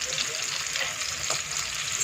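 Whole spices, bay leaf, curry leaves and dried fenugreek leaves sizzle steadily in hot oil while cooking a mutton masala, a continuous close hiss with a brief stir near the middle.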